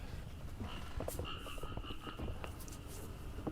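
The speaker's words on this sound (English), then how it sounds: "I'm battling against a bunch of fucking frogs" A chorus of frogs croaks close to a balcony at night in Japan, with a steady layered trill broken by sharper repeated calls and no talking.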